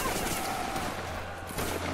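A massed musket volley fired by an infantry line in a Napoleonic-era multiplayer video game, a dense crackling roar that fills the whole moment.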